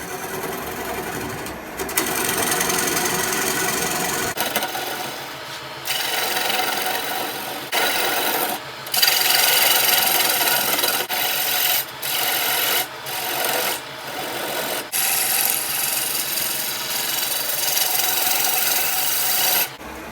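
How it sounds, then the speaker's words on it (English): A woodturning gouge hollows the inside of a wild, diseased chokecherry bowl on a lathe, a steady loud scraping and rasping hiss that runs nearly continuously, with brief dips and changes in pressure as cuts are pushed in. "I'm going to hollow this out"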